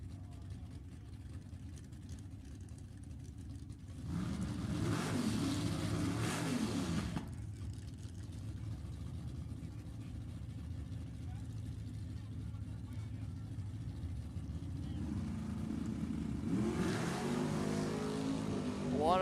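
A 1965 El Camino and a 1969 Camaro drag racing at Sacramento Raceway, engines roaring up loudly in two bursts over a steady rumble, with an announcer talking throughout.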